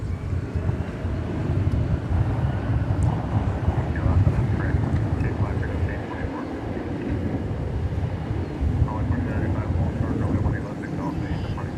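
An airliner that arrived on a flight from Billings rumbles as a broad, steady low roar at DFW Airport, continuous and fairly loud across the whole stretch, with wind buffeting mixed in.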